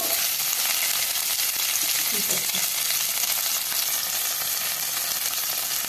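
Onion, garlic, green chili, curry leaves and ginger sauté in a hot oiled pan, a loud, dense, steady sizzle that fills the whole stretch without any break.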